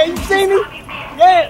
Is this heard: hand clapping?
no